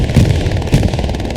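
Machine gun fire in the World War II shooter Hell Let Loose, a rapid continuous stutter of shots with two louder bursts near the start and middle, close and loud over a rumbling battlefield background.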